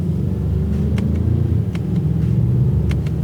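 A car with a cold air intake, engine humming and rumbling steadily in low gear while driving, with faint clicks from paddle-shifted gear changes, close and continuous with no talk.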